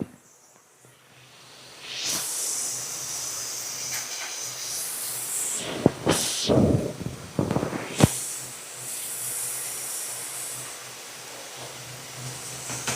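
Vegetables cook in a covered pan, giving a steady hissing sizzle that rises after about two seconds and carries on, with a few sharper bursts of spitting and crackle in the middle.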